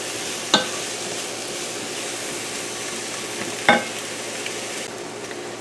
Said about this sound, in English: So our mushrooms and asparagus have been cooking long enough now.